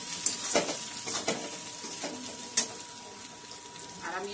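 Khichuri masala with chili powder stirred and fried in a pan, a soft continuous sizzle broken by several scraping strokes and clinks, close and moderate, with no voices.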